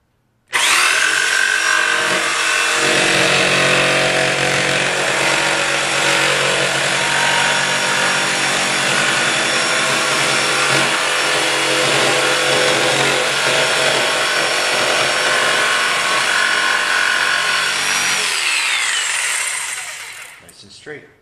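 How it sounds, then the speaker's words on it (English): A handheld jigsaw cuts through wood in one long, loud, continuous buzzing run, its blade rasping steadily for nearly twenty seconds before the motor winds down and stops. "Jigsaw does straight cuts and it also does curved cuts."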